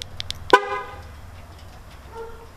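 A Dodge Charger Scat Pack horn gives a single short honk at remote start, preceded by a couple of faint chirps, then a low idle hum and a quiet tone near the end.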